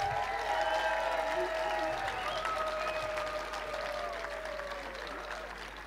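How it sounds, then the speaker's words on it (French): Applause from a large crowd of participants at a political summer university rally, a steady mid-level wash of clapping that gradually fades over several seconds, with some tonal hum and faint voices mixed underneath. "Je crois qu'on peut s'applaudir très fort."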